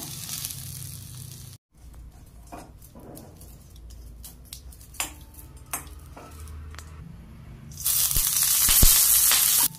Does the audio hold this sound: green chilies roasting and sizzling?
yes